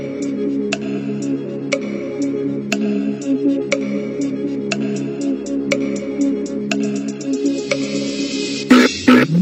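A quiz countdown clock ticks in a steady, evenly spaced rhythm over a droning musical bed, about one tick per second, ending in a sudden burst of louder sound near the close.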